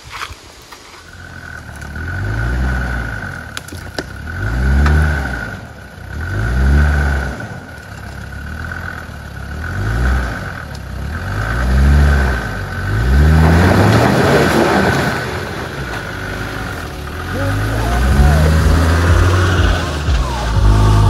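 Car engine revving in repeated surges while driving over a fallen tree on a road trip across Canada, the rises and falls coming every couple of seconds, loud and close, with music starting toward the end.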